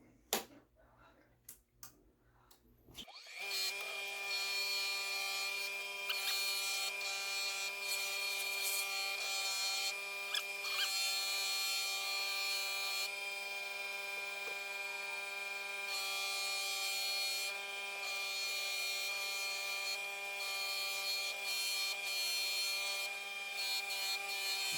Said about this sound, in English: So I'm going to buff this 2K at about